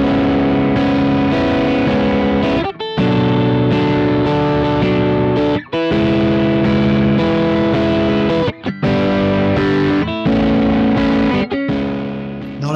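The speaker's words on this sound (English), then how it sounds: "Now let's hear the speaker simulator again." Heavily distorted electric guitar through a Palmer Supreme Soaker speaker simulator, chugging a riff, loud and thick, with short gaps where the chords cut off before resuming.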